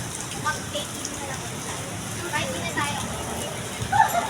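Steady, dense hiss of heavy rain pouring down, with people talking under it.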